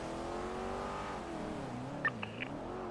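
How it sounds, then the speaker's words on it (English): A 2018 Dodge Charger engine in a video game hums with a smooth rising and falling drone, steady and moderately quiet, with a few brief higher tones near the end. "This engine does sound hot, though, I will admit."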